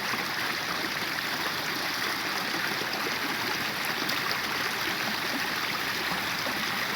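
A clear mountain stream near Bowron Provincial Park, British Columbia, rushes steadily past icy banks: a dense, constant broadband wash of flowing water, close and fairly loud, with no talk.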